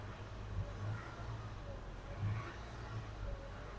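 A 2017 Toyota Tacoma's 2GR-FE V6, under repair for a front timing chain cover reseal, revs in a steady low rumble that swells briefly a couple of times, close by and with no talk.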